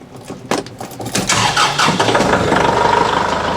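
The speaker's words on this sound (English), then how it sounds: "To determine the best place to rest the bucket, we got to start up the tractor and lower that bucket." A Kubota BH92 backhoe tractor engine cranks with a few quick turns, catches, and settles into a loud, steady running rumble close by.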